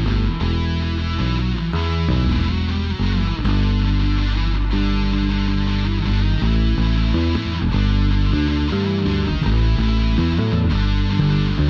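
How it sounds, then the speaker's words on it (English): Music played back with a dense reverb effect from a mixing preset. The full, sustained mix runs continuously at a steady, loud level with no voices. "Here's reverb, the dense reverb."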